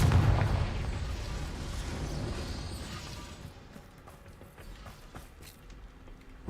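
A Confringo explosive spell goes off in Hogwarts Legacy, a loud booming burst with a rumbling low tail that fades over several seconds into quieter game ambience, with a few faint clicks near the end.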